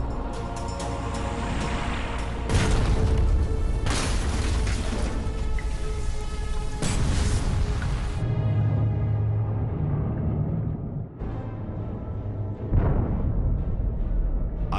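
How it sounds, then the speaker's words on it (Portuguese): Deep underwater booms from Mark 8 torpedoes packed with 365 kg of Torpex detonating against a German U-boat in the North Sea, several loud broadband blasts rolling into sustained low rumble, no talk. "A tripulação do Venturer consegue ouvir a explosão."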